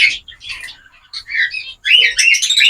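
An egg-bound bird gives a series of loud, close chirping and squawking calls in short bursts with brief pauses between them.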